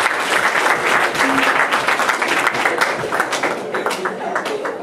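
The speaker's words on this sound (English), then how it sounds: "Let's give another round of applause." An audience in a hall claps together in a dense, sustained round of applause, loud and close, tapering slightly toward the end with no speech over it.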